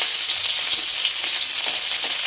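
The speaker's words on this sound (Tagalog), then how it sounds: "Mainit ang ating mantika. Unahin natin ang bawang." Garlic and onion sizzling in hot cooking oil in a pan, a steady loud bright crackle with scattered pops throughout, no voices.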